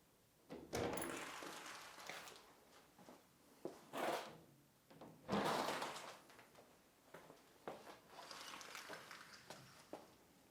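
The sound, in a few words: large bifold doors being opened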